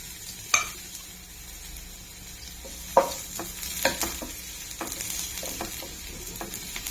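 Onions frying in about two spoons of hot oil for paneer masala, a steady close sizzle broken by a few sharp clanks and scrapes of stirring spread through the clip.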